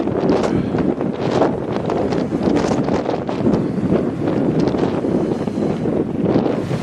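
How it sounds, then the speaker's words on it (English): Strong wind buffets the microphone on a hill above a ferry dock, a loud continuous rumbling roar with gusty surges throughout. "It's windy up here, you can tell by listening to the video."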